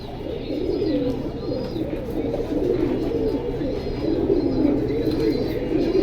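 Pigeons for sale at a pigeon market coo continuously in a low, rumbling chorus with a faint chirp now and then, close and steady throughout, and no speech.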